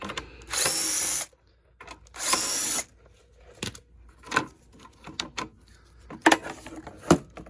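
A power drill drives a 1/4 inch bolt on a Craftsman mower during a carburetor replacement. There are two sustained whirring bursts, followed by scattered metallic clicks and clanks close by, with no talk.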